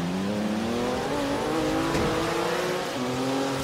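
A Porsche 911 Turbo S in the Forza racing game drives on a wet track, its engine droning loud and steady throughout with shifting revs and faint tire noise.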